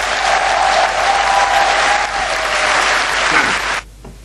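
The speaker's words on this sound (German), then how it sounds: "Das Publikum begrüßt sie sogar mit tosendem Applaus," A concert audience gives loud, dense, sustained applause to greet the conductor before the music starts. The clapping stops abruptly near the end.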